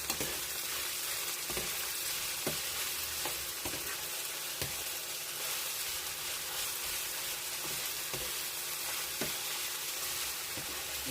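Pork meat stir-frying in a pan, a dense continuous sizzle with periodic scraping and clicking from a spatula stirring the pieces, close and steady with no talking.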